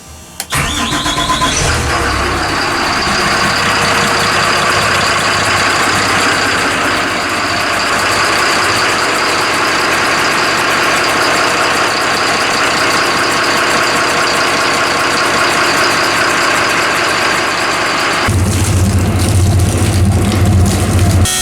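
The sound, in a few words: boat engine test firing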